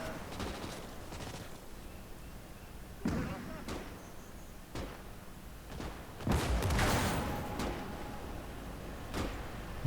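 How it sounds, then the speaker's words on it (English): Battle in the Gates of Hell strategy game, Finland campaign, with tanks on the road: scattered gunshots and distant artillery booms, bursts of rapid fire building into a louder fusillade around the middle, with voices underneath. "We're definitely winning the firefight."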